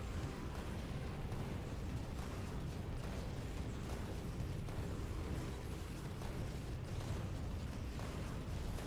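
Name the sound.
turrets firing and explosions in the video game Factorio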